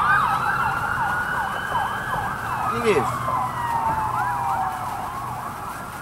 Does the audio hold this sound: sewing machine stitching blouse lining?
no